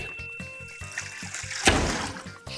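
Water gushes out of an opened children's museum exhibit at MOXI in a sudden splashing burst, preceded by steady rhythmic mechanical tapping from the exhibit, with no talking.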